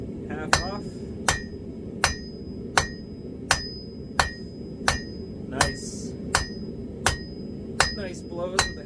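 A hammer forges a small metal leaf on an anvil. The blows are sharp and ringing, about a dozen of them spaced evenly in a steady rhythm, close and clear with a faint background hum.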